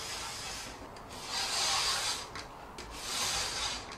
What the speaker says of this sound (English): Stick it on the top and literally just go from front to back